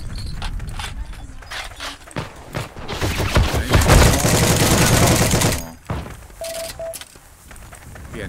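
Rapid gunfire in the World War II shooter Heroes & Generals, scattered shots first, then a dense burst of automatic fire that tapers off, with footsteps and mechanical clatter around it.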